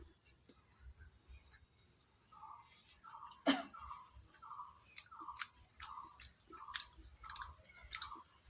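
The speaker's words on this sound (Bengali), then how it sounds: "তো খাই।" Someone eating a plate of foraged leafy greens, with soft repeated chewing and mouth sounds up close, a sharp cough or throat noise partway through, quiet between bites.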